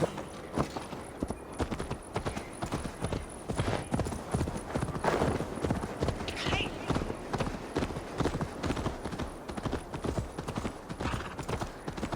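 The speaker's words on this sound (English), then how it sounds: "Mount up, Eivor. It's a long ride to Tamworth." A horse gallops in Assassin's Creed Valhalla, steady rapid clip-clop hoofbeats running throughout the ride while characters talk over them.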